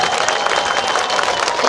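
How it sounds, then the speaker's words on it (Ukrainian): Large audience at a concert in Ternopil applauding steadily, a dense, continuous wash of clapping from many hands across the venue. "Величезні оплески і низький уклін"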